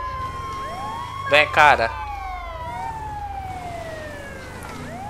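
An ambulance siren wails in GTA V, its pitch sweeping up and down over steady traffic noise, while someone speaks briefly in the middle.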